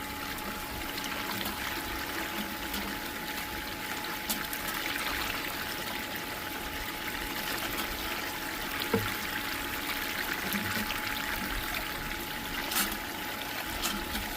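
Water pours and trickles steadily as bucket material and black sand are washed into a gold pan, a continuous close splashing wash with no talking.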